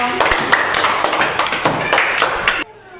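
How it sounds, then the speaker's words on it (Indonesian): Schoolchildren in a classroom clap their hands for a classmate named Noel, a loud, scattered burst of claps with children's voices mixed in, ending abruptly into near quiet. "Tepuk tangan untuk Noel."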